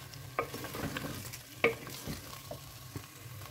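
A spoon stirs a paste of about two large tomatoes and six or seven green chilies into chicken frying in a pot, giving soft scraping strokes and light sizzling, with a couple of sharper clinks. No one speaks.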